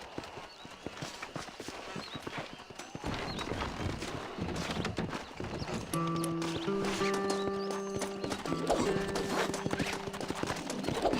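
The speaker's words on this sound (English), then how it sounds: "This steed looks right tetchy, I don't mind telling. Good luck, son. He's a wild one, and no mistake." A wild horse in the Red Dead Redemption video game clip-clops and neighs loudly, with hooves pounding throughout and a drawn-out whinny in the second half over outdoor ambience.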